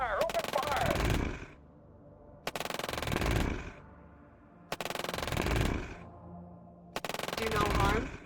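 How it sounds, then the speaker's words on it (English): Bursts of rapid automatic gunfire in the strategy war game Shadow Empire, four loud sustained volleys of about a second each separated by short pauses, with shouted commands nearby. "Open fire! Open fire!"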